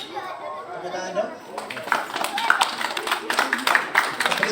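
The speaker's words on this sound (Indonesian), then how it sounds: "Tepuk tangan dong." Voices chatter at first, then an audience at a magic show breaks into brisk clapping that continues to the end while people keep talking underneath.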